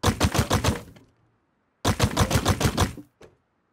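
Rapid bursts of sharp, clattering shots from a Nerf-style grenade launcher in the video game Rust, two quick volleys of about eight pops each, loud and close, with a short single pop at the end.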